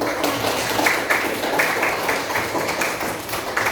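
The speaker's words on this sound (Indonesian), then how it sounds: "Tepuk tangan." A classroom of students applauding a classmate's answer, a dense, busy patter of many hands clapping together, close and lively, holding steady for several seconds without talk.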